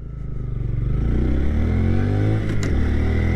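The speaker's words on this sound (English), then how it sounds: "Full throttle up that steep road" A 2025 Honda Grom motorcycle engine strains at full throttle climbing a steep back road, a loud, close, sustained drone whose pitch rises steadily, then dips briefly before holding high again.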